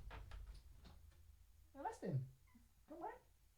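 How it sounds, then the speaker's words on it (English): A cat meows twice indoors, a drawn-out falling call followed by a shorter one, close and moderately loud, with faint talking and soft household knocks before it. "Wait, the cat is here."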